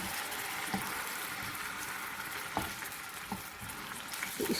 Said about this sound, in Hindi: तो इसको हम तड़का लगा रहे हैं।